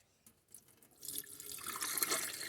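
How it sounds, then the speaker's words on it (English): Water running into and draining down a kitchen sink after a clog of matchsticks was cleared, starting with faint drips and splashes, then swelling into a steady rushing flow, fairly quiet and without talk. "We're going to see if the kitchen sink drains."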